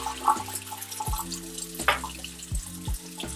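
Rinse water poured out of a pot of rice into a kitchen sink, a few short splashing pours and trickles of water at close range, no talking.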